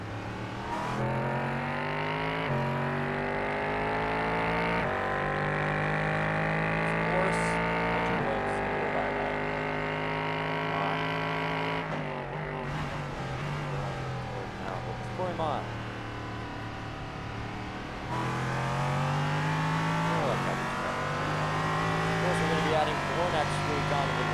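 LMP3 prototype race car at Daytona in sportscar racing, a continuous loud engine drone with shifting pitch as it runs and passes on track, overlaid by steady commentary talk throughout.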